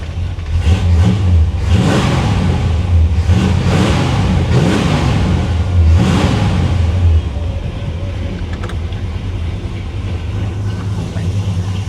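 A 1957 Chevy Bel Air with a carbureted engine runs loud and close, rising in several strong revs that swell and fall before settling into a steadier idle. No one talks over it.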